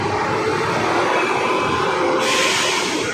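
A light rail LRT train passes close by in a continuous loud rumble and rush, with the noise brightening toward the end as it goes by; no voices.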